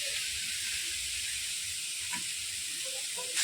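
Grated coconut and jaggery cook in a wok for a pitha filling, giving a steady, close, bright sizzling hiss that holds evenly throughout with faint stirring scrapes underneath.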